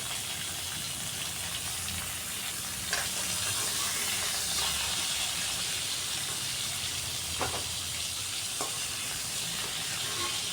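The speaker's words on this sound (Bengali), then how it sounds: "কারকুলটাকেও আমি হালকা ভেজে নেব" Teasel gourd (kakrol) fries in oil in a pan for a vegetarian moong dal dish, giving a steady, close, continuous sizzle with faint stirring clicks and no talking.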